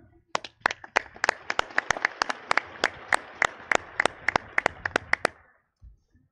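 Sparse applause from an audience: about two dozen separate sharp claps in an uneven rhythm over roughly five seconds, fairly close, then fading to quiet with no voices.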